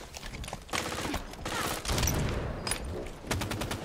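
Sniper rifle shots ring out in a Halo 5 Beta multiplayer match, with several sharp, loud gunfire bursts spread across the moment over busy game action.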